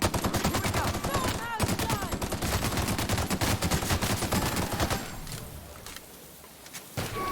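Rapid gunfire from a weapon in The Outer Worlds, a dense, loud stream of repeated shots over several seconds that thins toward the end amid other game effects.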